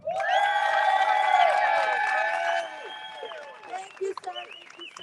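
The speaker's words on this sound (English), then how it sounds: "Let's give a big Texas cheer for Martha Elena Fierro" A loud crowd at a Houston political rally cheers, whoops and applauds for a candidate, a dense roar for about two and a half seconds that then thins into scattered shouts and claps.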